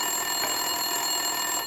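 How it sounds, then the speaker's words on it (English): A telephone ringing in an office scene of the video game Max Payne 2, a steady electronic ringing tone with a faint pulse, loud and alone for under two seconds. "Winterson's phone was ringing."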